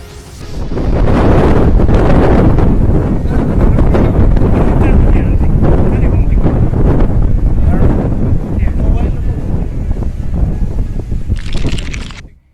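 A severe storm over northern India's Uttar Pradesh drives winds above 130 km per hour, a loud, roaring gust noise that batters the microphone almost continuously before dying away at the end.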